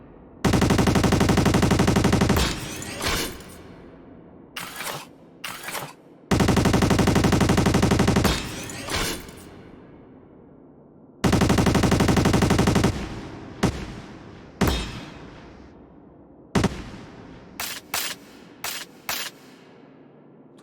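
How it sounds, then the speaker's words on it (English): Rifle fire in an Unreal Engine shooter game, its pitch rising as the ammo runs out. Loud sustained automatic bursts are cut off sharply, then followed by scattered single shots and short clusters, each with a quick decaying tail. "The rifle has RTPC linked to the current ammo that is set to gradually increase the pitch and the low pass filter."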